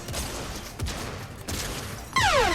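Rapid bursts of automatic gunfire from a first-person shooter game crackle in close succession, ending with a sharper ricocheting shot and a rising whine, with no talk over them.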